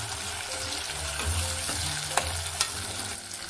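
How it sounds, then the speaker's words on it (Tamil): Prawns and grated ginger fry steadily in a pan for prawn pickle, a continuous close sizzle with a couple of sharp ticks and spatters, no talking. "இதை அப்படியே வந்து ஃப்ரை பண்ணி எடுத்துக்கணும்"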